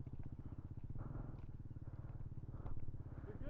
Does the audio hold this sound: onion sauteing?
no